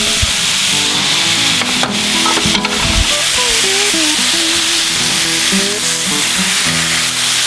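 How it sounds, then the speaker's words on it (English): Thin steak strips sizzling loudly in a hot pan while being stirred, a dense continuous frying hiss with scraping and tonal clatter, close and without speech. "because of the thin strip, it's going to brown real fast. It's going to cook real fast, so you want to keep it moving in that pan"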